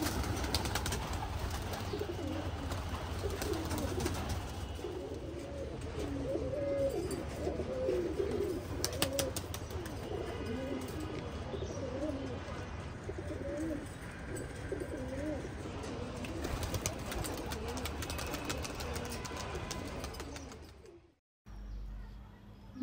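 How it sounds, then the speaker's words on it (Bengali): Pigeons coo over a rooftop in a steady, rolling chorus, with occasional wing flutters and chirps mixed in, before the sound cuts off near the end. "মুক্ত আকাশে ডানা মেলে কি সুন্দরভাবে উড়ছে, তাই না?"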